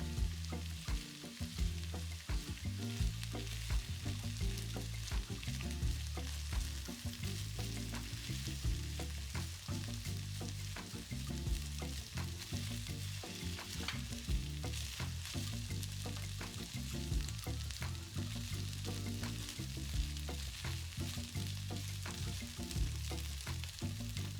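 Kimchi fried rice with sausage sizzles steadily in a pan over medium heat, a dense continuous frying hiss with frequent scraping and stirring clatter throughout.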